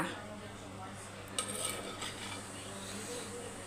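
A spoon or ladle stirs beetroot pulao in a metal pot, with soft scraping and a few clinks against the pot, one sharper knock midway, faint and close.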